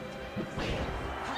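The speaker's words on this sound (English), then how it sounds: "So right now, Zain is just going for these up smashes." Up smash attacks landing in Super Smash Bros. Melee, heard as a couple of faint, muffled crunching impacts with a whooshing swipe over steady background noise.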